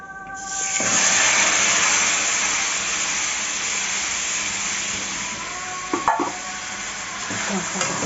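Marinated meat sizzles and fries steadily in a hot pan for a Bengali-style dish with already-fried potatoes, a continuous close hiss with a few brief stirring clatters near the end.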